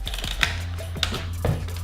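Mechanical clicks and ratcheting from a Mamiya RB67 medium-format camera as its film advance lever is wound, a few distinct close clacks over a steady low hum.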